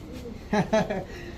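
A Bombay pigeon sitting on its eggs gives a short, soft coo of two or three throaty pulses, close by, amid faint background noise.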